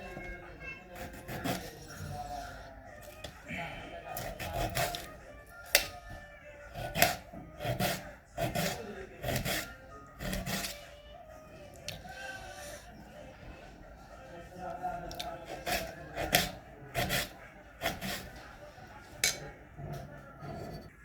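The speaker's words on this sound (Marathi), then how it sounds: "आता टोमॅटो पण आपण असे चिरून घेऊया." A knife chops tomatoes on a board in quick irregular bursts of sharp close taps, pausing briefly, while a voice talks quietly underneath.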